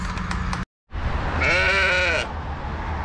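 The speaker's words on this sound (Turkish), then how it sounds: "Bak nasıl bağırıyor. Bu kadar kalın sesli bir koyun" A thick-voiced sheep lets out a loud, long bleat close by, a wavering nasal cry lasting about a second, after a brief cut of silence and amid steady outdoor noise on a farm.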